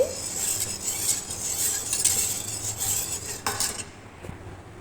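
A utensil scrapes and clinks against a pan as caramel is stirred on a stovetop, producing a close, continuous scratchy stirring with light metallic taps before it quiets near the end.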